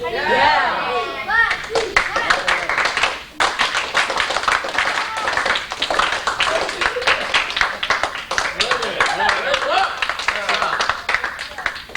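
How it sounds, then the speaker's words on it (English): A group of Boy Scouts claps in unison, a rapid train of sharp, close hand claps running for several seconds, with children's voices talking over and around the clapping. "Guys, deserve a Class A clap."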